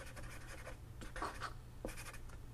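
Pen scratching across paper in short bursts of writing, close and quiet, with brief pauses between strokes.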